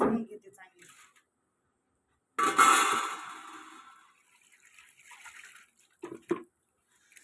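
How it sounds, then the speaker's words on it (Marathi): A brief splash of water being poured out after washing prawns, loud for a moment then trailing off, with quiet talk before and some clatter after. "आता हे पाणी फेकून देते मम्मी दुसरं पाणी घेते"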